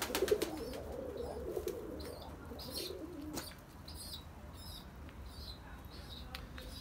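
Pigeons in a loft at evening feeding time give soft, low cooing and scattered chirps, with brief wing flaps, fairly close over steady background noise.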